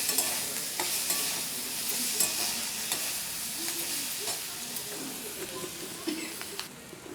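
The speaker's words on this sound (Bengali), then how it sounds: "এবার এক চামচ হাফ চামচের মতো একটু আদা বাটা দিয়ে দিলাম এবার এটাকে ভালো করে নাড়াতে" Ginger paste frying in a pan while being stirred, giving a steady close sizzle broken by repeated scraping strokes of the spoon, with no voices.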